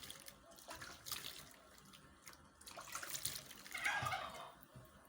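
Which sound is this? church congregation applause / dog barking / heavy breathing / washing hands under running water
washing hands under running water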